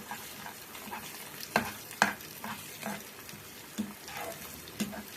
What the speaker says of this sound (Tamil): நல்லா கலக்கி விட்டுடலாம்